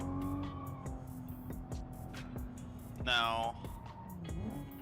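A little Volvo car driving in the video game RO-Scale hums with a steady engine tone that rises and falls, joined by a short squealing rise, while someone talks excitedly over it.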